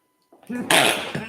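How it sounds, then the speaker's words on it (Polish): A single sneeze bursts out after a brief quiet, with a short intake followed by a loud, breathy explosive release that trails off, close to the listener in a quiet indoor room. "kichnę jednak"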